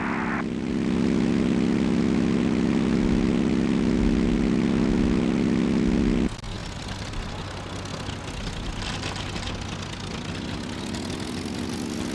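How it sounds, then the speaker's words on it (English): Propeller fighter plane in the Heroes of the Pacific combat flight game, a steady loud engine drone that holds for about six seconds, then drops to a lower, rougher roar as it takes off. "are cleared for takeoff, Wingbaker."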